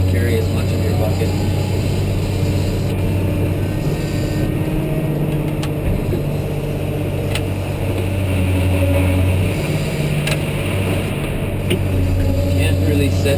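Steady heavy diesel rumble of a 988H Cat wheel loader working while feeding a conveyor belt, a constant loud low drone throughout with a faint whine above it.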